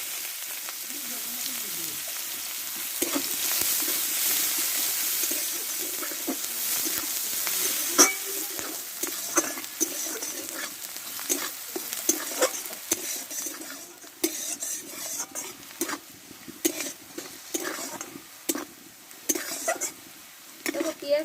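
Chopped onion tipped into hot oil with cumin, cardamom and chili, a loud close hiss at first that settles into crackling fry, with repeated clinks and scrapes of a metal spoon against the pan.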